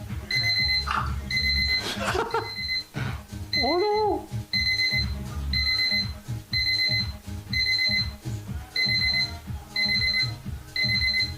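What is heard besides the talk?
electronic alarm beeping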